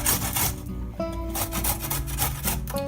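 Vegetables for curtido scraped across a hand grater in quick, rhythmic rasping strokes, close and steady with no talking.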